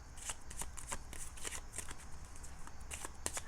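Tarot cards are shuffled in quick, crisp riffles, a rapid run of soft papery flicks and snaps close by at a low, even level.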